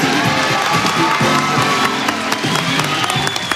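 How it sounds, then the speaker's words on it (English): A TV game show studio audience applauds loudly for Classic Concentration, with dense continuous clapping and scattered cheers filling the room. A voice is heard faintly beneath the applause. "The man on my right was applauding loudly"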